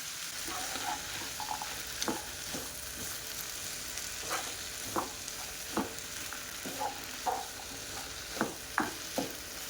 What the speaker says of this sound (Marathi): आणि अशा प्रकारे आपल्याला चांगले मिक्स करून घ्यायचे आहे.